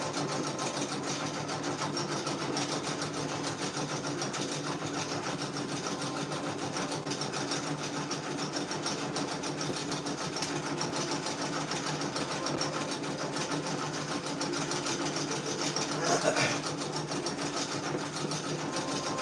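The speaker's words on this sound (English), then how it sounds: "it looks like that's a Brother 10 needle machine" A Brother 10-needle embroidery machine runs continuously with a steady, rapid mechanical chatter and hum, close and even throughout, with no talk over it.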